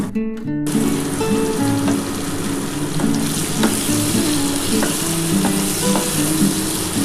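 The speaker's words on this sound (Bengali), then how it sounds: "একটু ভাজা ভাজা করে নিতে হবে" Poppy seed paste with onion and a little sugar fries in a pan, a steady close sizzle with stirring scrapes throughout and a faint tonal hum in the background.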